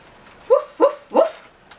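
A human voice imitates a dog barking, three quick, close, loud woofs in an even rhythm, spoken as a storybook dog.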